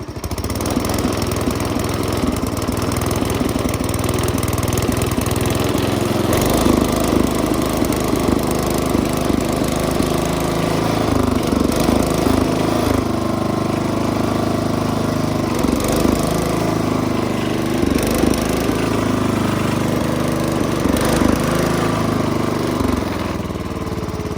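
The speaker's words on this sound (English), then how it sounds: "This engine runs mint. Now I'll show you what I mean with the surging issue." A small engine running steadily but surging, its rough drone rising and falling in repeated waves over about twenty-four seconds, close and loud with no talk.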